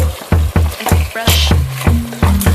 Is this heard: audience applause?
no